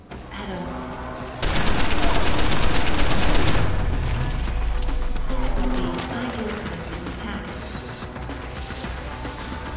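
Video game gunfire in Deus Ex: Human Revolution, a sustained loud burst of automatic shots over music and game ambience, then continuing combat noise and softer rattling.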